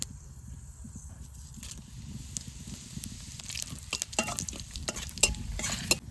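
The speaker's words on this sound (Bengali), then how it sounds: "এবার একটু তেল দিয়ে ফোড়নের উপর জিরে আর তেজপাতা দিয়ে দেবো" Cumin seeds and bay leaves sizzle and crackle in hot oil as a tempering, with scattered sharp pops and stirring clatter over a steady low frying hiss, close and fairly quiet.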